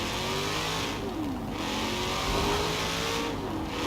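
A Chevrolet Camaro ZL1 1LE in Forza Horizon 4, built past 1000 horsepower, revs hard through its exhaust, rising and falling as gears change in a continuous, loud, close engine roar.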